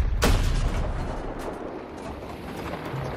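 Grenade blast in a multiplayer shooter game, one sharp loud explosion near the start followed by a long rumbling decay and low background noise.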